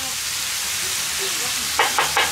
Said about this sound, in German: Da brodelt auch schon der Speck munter vor sich hin.